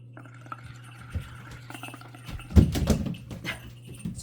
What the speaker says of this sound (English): that would be my dog playing with her noisy bone on the kitchen floor